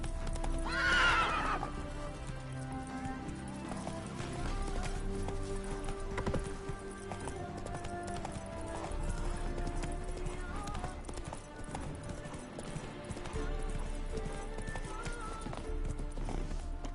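Geralt's horse Roach in The Witcher 3 on PS5, a neigh near the start followed by steady rhythmic hoofbeats under game music and ambience.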